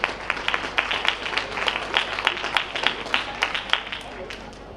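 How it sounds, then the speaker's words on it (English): A graduation audience at Lannaman's Preparatory School claps for a teacher: a sustained wash of applause with distinct individual claps pulsing through it, moderately loud and steady. "Round of applause for Ms. Hardy."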